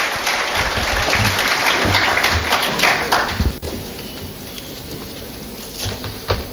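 Applause from the audience at an army staff annual conference, a dense steady wash of clapping with some thumps, strong for a few seconds before dropping to a thinner patter.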